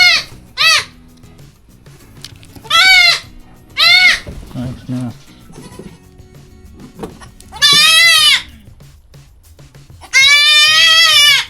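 Several loud, wavering goat bleats ring out close by at irregular intervals, with brief quiet speech and shuffling between them.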